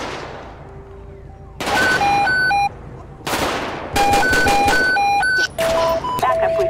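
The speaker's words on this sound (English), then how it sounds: "Shot fired, shot fired, shot fired." Gunfire in the GTA 5 LSPDFR police mod on Grand Theft Auto V, several loud bursts of rapid shots in separate volleys, with electronic beeping tones over them and a faint voice underneath.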